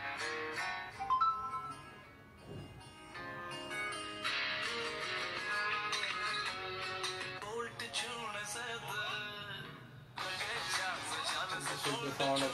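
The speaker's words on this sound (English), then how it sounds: "This is the sound of the loudspeaker." A music track plays through the loudspeaker of a Realme X3 SuperZoom phone, a continuous, fairly quiet mix of beats and melody with a thin, bright character and no voice over it.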